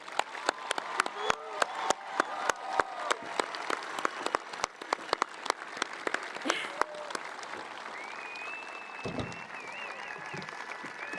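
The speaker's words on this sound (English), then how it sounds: "Please join me in a round of applause to thank all the good work Mr." At a 2024 high school graduation, scattered individual claps ring out sharply, some cheers and whistles rise, and crowd voices murmur underneath, sparser applause from a large hall.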